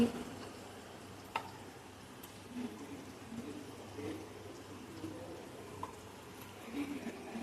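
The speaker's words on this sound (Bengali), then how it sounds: "আর এদিকে আমার পেঁয়াজ ভাজাটা কিন্তু চলছে, পেঁয়াজ ভাজাটা চলছে।" Onions frying in a pan for a mutton curry make a faint, steady sizzle with a few scattered light ticks and clinks throughout.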